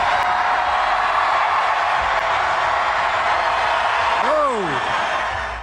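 A large crowd at a Donald Trump rally roars and cheers in a dense, loud, unbroken wash, with a rising and falling whoop near the end.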